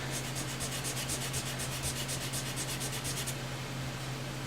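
A Fender Stratocaster neck with a bi-flex truss rod is sanded by hand with sandpaper during a repair, making quick, rhythmic back-and-forth rasping strokes close up over a steady low hum, then stopping near the end.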